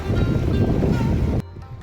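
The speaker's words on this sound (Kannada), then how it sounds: "ಇಲ್ಲಿ ನೀರು ಹರಿತಿದೆ ಯಾವ ರೀತಿ ಅಂತ ನೋಡಿ" Floodwater from the Tungabhadra river rushes past the bathing ghat in front of the Virupaksha temple at Hampi during the monsoon, a loud roaring wash that drops abruptly near the end.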